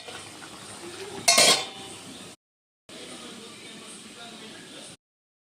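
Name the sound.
washing metal vessels and dishes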